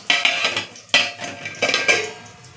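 Metal clatter of a lid set onto a kadai where handvo, a traditional dal-rice batter cake, is cooking; a few sharp clanks and scrapes, close and fairly loud, with no voices.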